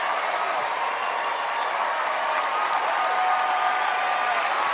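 An audience claps steadily and densely throughout, a continuous wash of applause with crowd noise and no clear speech on top.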